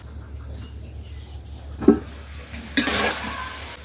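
Food frying in a pan with a soft continuous sizzle, broken by a couple of sharp metallic clinks from a stirring utensil against the pan, the second followed by a brief louder hiss.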